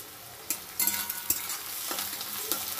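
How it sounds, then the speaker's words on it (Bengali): Onions fry in hot oil with cardamom, a steady close sizzle broken by several sharp scraping stirs of a spoon in the pan. "এদিকে দেখো পেঁয়াজটা ভাজা বসিয়ে দিয়েছি।"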